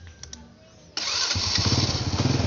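A 1990 Honda Astrea Prima motorcycle engine cranks and catches, then settles into a close, steady running putter with an even rhythm and no talk over it.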